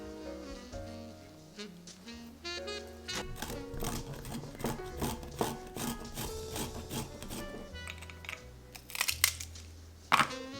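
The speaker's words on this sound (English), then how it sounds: "We're gonna do the dry ingredients and shred the carrots, chop up the nuts." Carrots are shredded and nuts chopped in a home kitchen. Rough scraping and crunching strokes repeat unevenly over soft background music, with a few louder knocks near the end.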